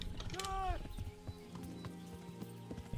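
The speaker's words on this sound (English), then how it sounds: "Henry's making all sorts of new noises on the horse" Horse riding sounds in the Kingdom Come: Deliverance video game: a brief whinny-like tonal call and hoof clip-clops, steady and close, over a busy game background with some voice.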